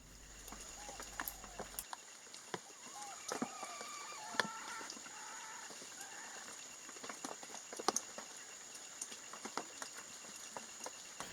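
Kalij pheasant calling in forest at Kaeng Krachan, Thailand, a few short harmonic calls in the first seconds over a steady bed of insect buzz and scattered ticks, moderately distant.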